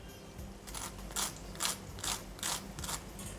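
A crispy vegetable cutlet is crunched at close range: about seven sharp, crackly bursts come in a fairly even rhythm over a quiet background, with no talk.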